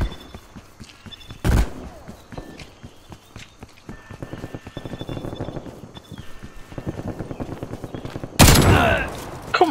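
Rapid gunfire from an online shooter's gun game mode: fast strings of shots rattle in bursts, broken by two loud sharp blasts near the start and near the end.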